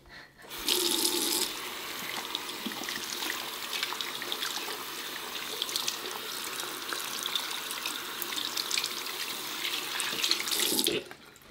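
Water runs steadily from a sink tap while soap is rinsed off, a bright continuous splashing that starts abruptly, stays close and even for about ten seconds, then cuts off.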